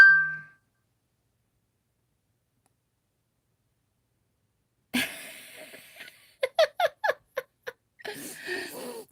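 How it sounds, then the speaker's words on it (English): A phone text message alert sounds once as a short, clear electronic chime in a quiet room, followed after a pause by soft rustling and several sharp clicks. "Someone texted me something."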